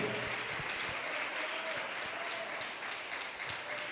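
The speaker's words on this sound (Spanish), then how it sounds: "Dale un fuerte aplauso al Espíritu Santo" A church congregation applauds during an evening service, a faint but continuous patter of many hands clapping that holds steady and thins slightly toward the end.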